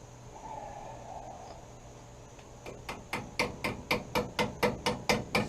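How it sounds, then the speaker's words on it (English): A hammer gives light taps to seat a brake line retainer on the front brake backing plate of a 1947 Willys, about a dozen sharp metallic hits in a steady, quickening rhythm, close and clear after a quiet start. "Just giving her a little light taps there, little love taps, take her home."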